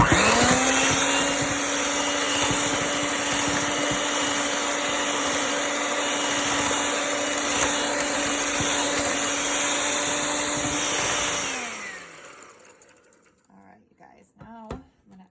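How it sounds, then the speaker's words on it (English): A blender whirs steadily at close range, mixing an orange juice mixture for an orange poke cake, a loud, constant motor drone that winds down and stops near the end, followed by quiet kitchen clatter. "Blend this up a little bit more."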